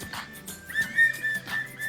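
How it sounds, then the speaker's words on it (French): A small toy whistle from a surprise egg is blown in several short, thin, high tones, close to the listener, with faint background noise and no talking. "Je crois que c'est un sifflet. Et on va l'essayer pour voir si ça marche."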